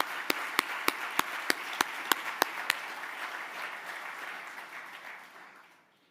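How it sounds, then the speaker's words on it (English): Audience applause for civil engineering students at a university hard hat ceremony, with a faint, distant wash of clapping led by about ten sharp, evenly spaced claps at first, then a steady blur that fades out. "Let's give a big round of applause for the civil engineers."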